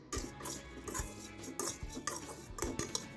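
Paneer stirred in a pan for a tawa pizza, heard as a series of close, sharp metallic scrapes and clinks of a spoon against the pan, coming in irregular strokes.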